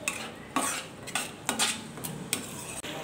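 A spatula stirs and sautés a spinach-paneer masala paste in ghee in a pot. About half a dozen sharp scraping strokes cut through a soft, steady sizzle.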